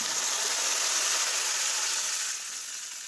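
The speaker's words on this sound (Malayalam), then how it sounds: "അതിലേക്ക് 1/2 ലിറ്റർ പാലാണ് ഞാൻ എടുത്തിട്ടുള്ളത്. അത് ഒഴിച്ച് കൊടുക്കാം." Cow's milk poured into hot roasted vermicelli in a pan gives a loud, broad sizzling rush that holds steady and then eases slightly toward the end.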